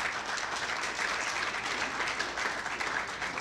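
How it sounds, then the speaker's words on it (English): Audience at an award dinner applauding steadily, a dense, even wash of clapping from a room full of people that holds at the same level throughout with no voices standing out. "Please clap it up for him."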